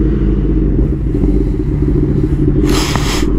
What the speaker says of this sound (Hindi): एंड करते हैं अपनी बाइक को स्टार्ट